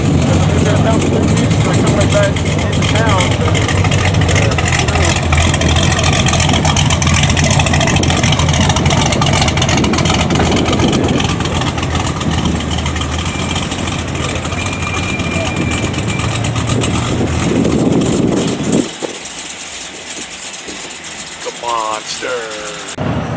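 A Cadillac CTS-V making about 750 wheel horsepower rumbles at a race track, a loud sustained engine drone that drops off sharply near the end, with voices talking over it.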